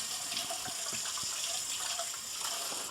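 A kitchen tap runs steadily while hands are washed beneath it, a close, continuous splashing gush with small shifts in the flow before it cuts off at the end.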